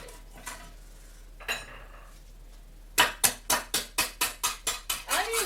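A small metal baking pan is handled at home, giving a faint knock or two before a rapid run of about ten sharp, evenly spaced metallic clanks, close and fairly loud.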